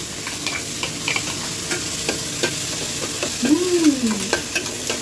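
Ginger garlic paste masala fries in a pan with a steady loud sizzle, while a utensil stirs and scrapes through it in repeated strokes close by.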